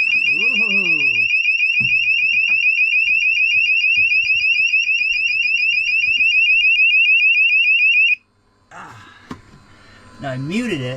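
A boat's high water bilge alarm blares a loud, steady electronic tone for about eight seconds, then cuts out, followed by someone talking and brief handling noises.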